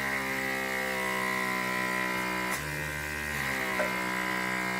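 A vacuum sealer pump runs steadily at close range, giving a loud, even mechanical drone that dips in pitch once as the bag tightens, then continues humming.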